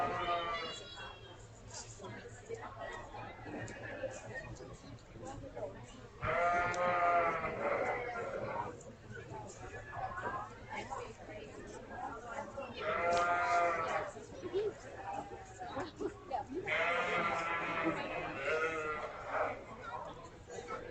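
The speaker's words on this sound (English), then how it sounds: "On deck, mature commercial ewes." Mature commercial ewes bleat repeatedly at a county fair sheep show, several loud, wavering cries rising over steady crowd and announcer talk in a busy show barn.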